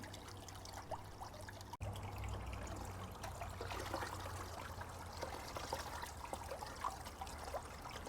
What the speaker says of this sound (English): All right, so let's get some fresh water in here.